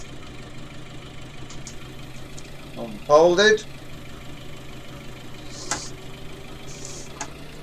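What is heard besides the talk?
tractor engine idling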